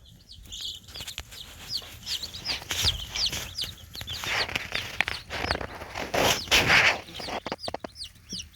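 Several baby chicks cluck and chatter continuously nearby in a brooder, overlapping calls rising and falling with some louder squawks toward the end.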